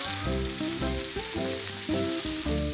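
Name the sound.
chicken pieces frying and being turned in a pan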